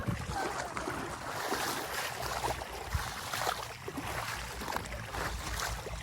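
A boat travels on the Sindh river, giving a continuous rushing wash of water and hull noise that stays steady and fairly close throughout, with no clear talking.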